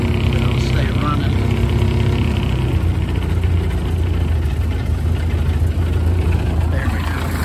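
A Ford Model A engine idling after a carburetor mixture adjustment, a loud steady low chugging rumble close by with no break.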